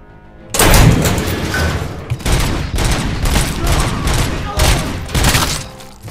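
Rifle fire in the shooter game Robocop Rogue City, with repeated loud bursts of shots and booms filling the whole stretch after a short quiet start, dense and close, with a voice faintly under the gunfire.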